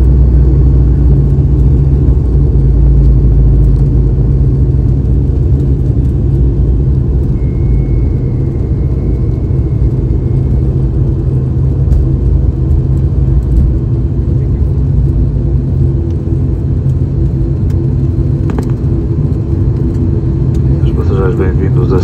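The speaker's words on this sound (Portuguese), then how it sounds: "Agora chegou a hora da aterrissagem ou aterragem, como se diz aqui em Portugal." Cabin of a TAP Air Portugal ATR 72-600 turboprop landing on a Lisbon to Seville flight, a loud constant low propeller and engine drone filling the space, with a voice speaking faintly underneath.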